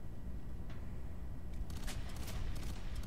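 Gunfire in the shooter video game F.3.A.R., a few sharp bursts of shots arriving in the second half over a steady low background, fairly quiet overall.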